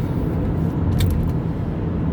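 A car driving along a road, heard from inside on the way to work: a steady low engine and road rumble fills the whole stretch, with a brief brighter hiss partway through.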